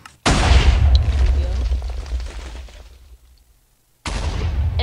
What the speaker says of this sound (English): And then it just blew up more of the wall.